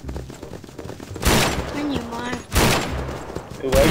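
Loud bursts of rapid gunfire in Garry's Mod, two dense volleys about a second apart with another starting at the end, while players talk between them.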